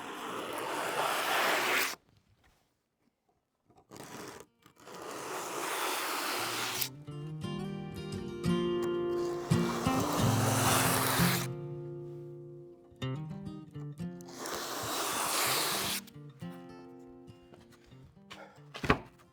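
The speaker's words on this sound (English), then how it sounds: "I'm just taking some 80 grit, folding it over, and passing it through these curve cuts" Folded 80 grit sandpaper rubbed by hand through curved cuts in a storage project piece, giving loud bursts of harsh scraping strokes separated by short quiet gaps and some knocking handling noise.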